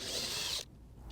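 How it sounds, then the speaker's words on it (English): A power tool whirs steadily for about half a second while backing wood screws out of a baseboard, then cuts off, leaving faint room noise with a slight mechanical click. "we're going to need to create some space by removing the wood screws"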